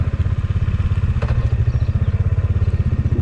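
Bajaj Dominar motorcycle engine thumping at a steady low rumble while ridden down a slope in Sri Lanka, close and continuous, with a brief clatter midway.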